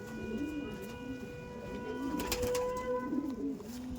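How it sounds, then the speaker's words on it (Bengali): Pigeons cooing in a home loft of flying Andhra pigeons, soft repeated rolling coos close by with faint background hum and a few other bird sounds. "যা দেখছেন সব কিন্তু উড়ান পায়রা"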